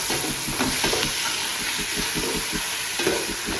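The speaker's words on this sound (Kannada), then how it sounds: "ಈಗ ಒಣಗಿನ ಟೊಮೆಟೊ ಎಲ್ಲ ಒಳ್ಳೆ ಸಾಫ್ಟ್ ಆಗಿದೆ, ಈಗ ಫ್ರೈ ಆಗಿ." Softened tomatoes fry in a pan for chicken dum biryani: a dense, constant hissing sizzle layered with soft stirring scrapes, heard up close and without talk.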